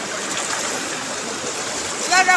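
Floodwater streaming across a road in a flooded village area, a steady broad rushing wash that stays even throughout, with a brief louder splash or gurgle near the end.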